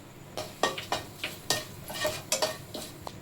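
Whole cinnamon, cardamom and cloves crackle and pop in hot oil, a series of sharp sizzling bursts with brief scraping stirs in between, close and fairly loud.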